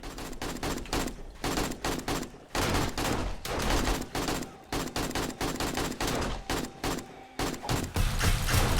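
Automatic turrets in the video game 7 Days to Die fire rapid, dense bursts of gunfire, loud and close, with brief gaps between volleys throughout.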